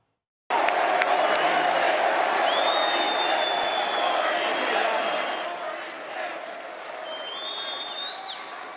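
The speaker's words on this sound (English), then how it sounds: "the crowd started, I think they were chanting something" Large crowd at a Donald Trump rally in New Hampshire, a loud, sustained roar of cheering and chanting from a packed audience, easing slightly near the end, with a few whistles rising above it.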